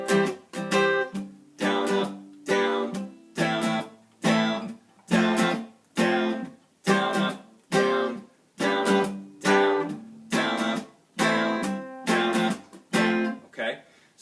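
An acoustic guitar slowly strums the verse chords of a song in a steady down-up rhythm, each strum ringing briefly before being muted, clear and close with no voice.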